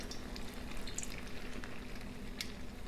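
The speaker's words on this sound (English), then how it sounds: "Fry a couple minutes on each side just to make sure it's nice and crispy." Chicken taquitos frying until crispy in a pan give a steady close sizzle and crackle throughout, with faint scattered pops and no talking.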